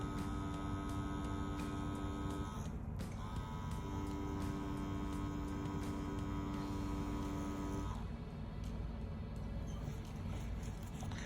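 A Dragonhawk Atom M5 tattoo machine runs while drawing lines, giving a steady faint electric hum with a whiny tone that breaks briefly and changes pitch a couple of times, with no talking.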